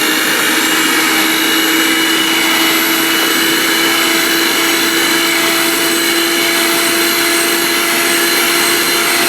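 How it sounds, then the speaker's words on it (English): Dough blender whirring steadily as it mixes gluten-free vegetarian thin crust pizza dough, a loud, continuous motor drone with a constant pitch and no talking. "I'm going to use my dough blender to blend everything together"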